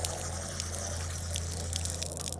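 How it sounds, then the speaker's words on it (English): Water runs steadily from a park tap while hands are washed, a constant close splashing flow with a low hum beneath it and no speech. "I'm only gonna wash my hands"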